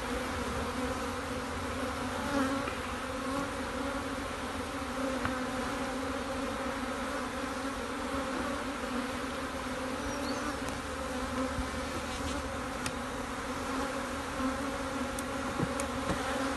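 Honeybees buzz steadily from an opened beehive while frames are being pulled during a beekeeping inspection, a dense, continuous drone of many insects close by with no talking.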